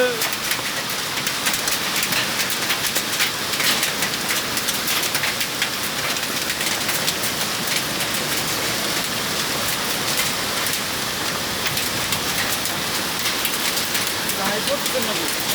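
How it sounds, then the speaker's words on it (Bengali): A heavy hailstorm with rain pours down in Shahbag, Dhaka, a dense, continuous hiss of drops and pellets striking surfaces close by. "লোকেশন হচ্ছে শাহবাগ শাহবাগ প্রচুর শিলা বৃষ্টি হচ্ছে"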